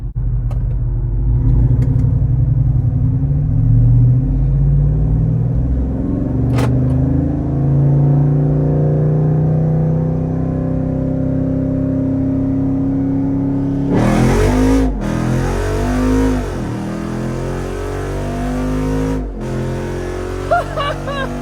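A Jeep Wrangler Rubicon 392 on massive tires drag races a new BMW, with a loud close engine drone through rising gear pulls, then an abrupt harsh shift to rapid revving and another vehicle's roar passing.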